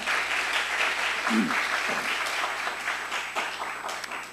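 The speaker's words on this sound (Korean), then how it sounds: "이분들을 위해서 큰 박수 쳐주시기 바랍니다" A church congregation breaks into sustained, dense applause, loud and even throughout, with a few brief voices rising under the clapping.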